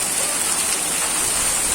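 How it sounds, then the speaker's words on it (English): Hailstones drum steadily on a roof, a dense continuous hiss of countless small impacts that stays loud and even throughout, with no voices. "These all are hailstones."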